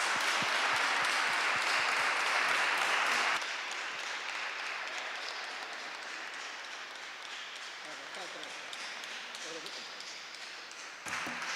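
An audience applauds with dense clapping after a lecture on the formation of the Gospels at a Bible week event. The clapping lasts about three seconds, then gives way to a quieter room murmur until the end.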